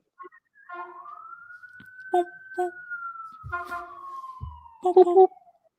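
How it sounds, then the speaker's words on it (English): A siren wails steadily, its pitch rising then slowly falling, with a few short thumps and knocks breaking in over it. "Listen to those sweet, sweet sirens, baby."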